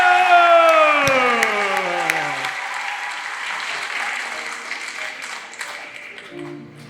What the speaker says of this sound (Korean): 그러면 여러분 뭐 해야 된다? 그렇지 박수!